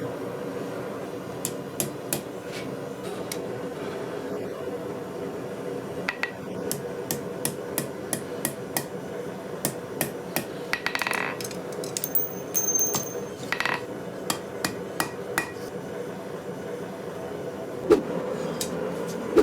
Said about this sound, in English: I'm going to forge this out into a triangle to make a stirrup.